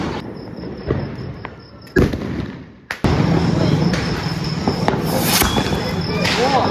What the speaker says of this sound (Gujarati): ફટાકડા ફોડી નાખ્યા.